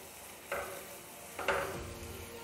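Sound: masala frying in oil in a pan for Rajasthani patod curry

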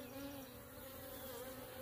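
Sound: honeybees buzzing in a stirred-up nucleus colony

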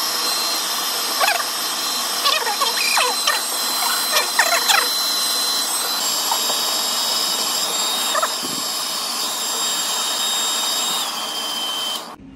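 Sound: hair dryer blowing hair

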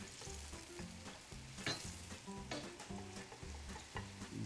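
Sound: onion cooking and sizzling in a pan

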